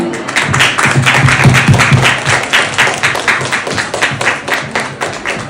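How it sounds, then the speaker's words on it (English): A panel-event audience breaks into sustained applause for the panelists, a dense, steady wash of many hands clapping together that tapers slightly toward the end. "big round of applause for our awesome panelists"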